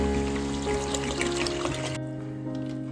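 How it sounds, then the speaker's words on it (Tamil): Water poured from a one-litre bottle into a pot of prawn biryani, a steady trickling pour that continues for about two seconds before fading into quieter kitchen background. "இப்ப நம்ம இது கூடயே இந்த பிரியாணிக்கு தேவையான தண்ணி ஊத்திக்கலாம்."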